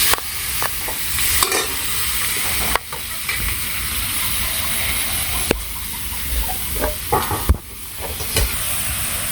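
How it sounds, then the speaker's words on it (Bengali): Pumpkin pieces with turmeric, chili powder, salt and green chilies are stir-fried in a pan without water, giving a continuous close sizzle broken by periodic scraping strokes of a spatula. "তো এই সবজিটা ভালো করে কষামু মানে এই কুমড়োর মধ্যে তো আর জল দেওয়ার দরকার নেই"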